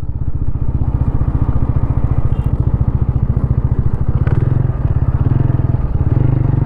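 A 2024 TVS Apache RTR 160 4V motorcycle is ridden in sports mode, its engine thumping steadily and loudly up close, the pulse quickening and rising in pitch as the bike accelerates.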